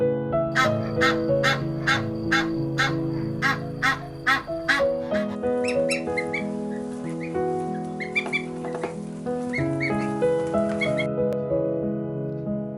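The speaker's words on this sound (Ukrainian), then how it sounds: "Ось проходить родина гусей тато гусак, мама гуска і маленькі гусенятка." A family of geese with goslings and ducks in a farmyard honk and quack in a busy, overlapping chorus, with repeated calls close by and steady background noise throughout.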